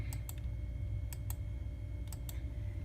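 Calculator buttons are pressed in three quick pairs of crisp clicks, spaced evenly over a low steady room hum.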